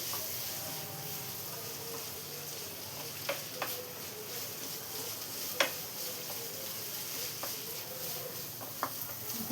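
Sliced onions sauté in a pan with a steady, quiet sizzle, broken by occasional sharp clicks of a spatula against the pan.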